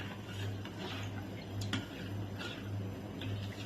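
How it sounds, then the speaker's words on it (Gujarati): Turmeric and hing are stirred into gram flour for khandvi: soft, continuous scraping and light clinks of a spoon in a bowl, faint and close over a steady background hum. "હલ્દી થોડીક હિંગ બધુંને સારી રીતે મિક્સ કરી દઈશ"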